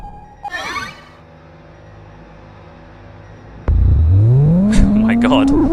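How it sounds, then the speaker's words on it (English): In the Dino Crisis video game, a generator is switched on: descending electronic warbles fade out, then a loud powered hum abruptly kicks in and whines steadily upward in pitch as the machine spins up. "now there's power to this generator."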